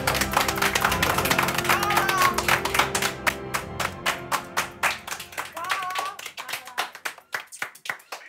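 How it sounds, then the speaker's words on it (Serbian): A studio audience on a Serbian home-renovation TV show claps for about eight seconds. The applause starts as a thick burst with faint voices underneath, then thins into separate, distinct handclaps. "Dajte aplauz za Energy Net!"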